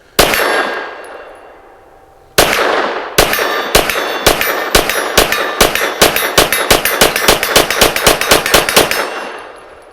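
A Walther PDP Match steel frame pistol fires one shot, then after a pause a rapid string of about twenty loud shots, each followed by a sharp metallic clang from steel targets.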